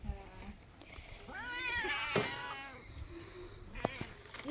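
Several cats meow in a village home, a couple of clear drawn-out meows close by with some quieter background noise and no clear speech.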